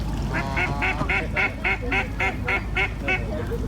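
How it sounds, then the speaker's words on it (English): Duck quacking in a rapid series of about eleven evenly spaced, loud nasal quacks close by, over faint background noise. "He's just telling that duck to go away."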